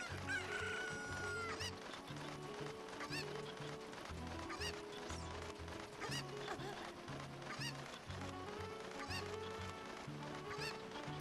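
A cucco chicken clucks and squawks repeatedly in an Ocarina of Time randomizer game, loud and close over dense, continuous in-game music, with no talking.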